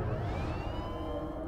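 A siren wails in the video game Oddworld Soulstorm: a steady rising tone over a dense, rumbling game soundscape, moderately loud and with no talk.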